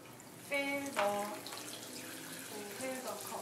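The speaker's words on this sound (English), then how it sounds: "Pour the perrier into the cup and" Perrier sparkling water is poured into a cup over ice, a steady splashing trickle with a couple of stronger gushes near the start and a voice talking faintly alongside.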